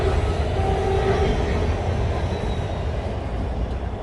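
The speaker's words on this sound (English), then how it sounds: "Train." A train rumbles past on a railway, a steady, loud, continuous roar of wheels and cars with no break over its length.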